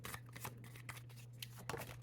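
Tarot cards shuffled close up in quick riffling bursts, a steady soft flutter with a few sharper slaps, against a faint low hum and no talking.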